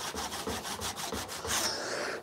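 A hand saw works back and forth in the kerf of a wooden axe handle, with a quick, even rhythm of about a dozen close, rasping strokes and no talk.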